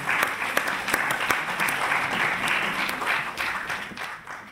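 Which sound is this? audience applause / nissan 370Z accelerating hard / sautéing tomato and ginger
audience applause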